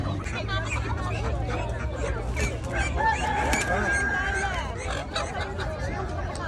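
Roosters crow repeatedly amid a busy crowd, with clucking hens and a constant babble of voices close by.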